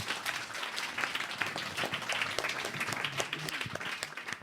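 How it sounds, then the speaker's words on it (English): A studio audience claps in a steady, dense patter of many hands, fairly close and sustained throughout, with no voices over it. "So I think we should all give a very big round of applause to George's cerebellum."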